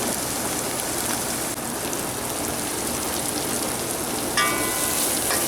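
A curry powder mixture fries in a pot for Guyanese-style egg curry, giving a steady, dense sizzle that holds at even loudness throughout, close by and without talk.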